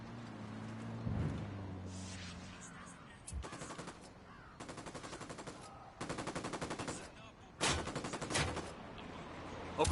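Automatic gunfire from the tactical shooter Ghost Recon comes in several separate sustained bursts at a moderate distance, with quieter gaps between them and a brief voice early on.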